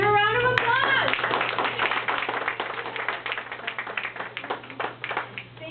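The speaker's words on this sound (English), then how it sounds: "Let's give her a round of applause." An audience at a South County GNA gathering in Morgan Hill breaks into clapping, dense and close for several seconds, following a brief voice at the start.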